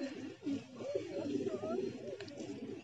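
A pigeon coos softly in a few low, rolling phrases, fairly close, with light background noise.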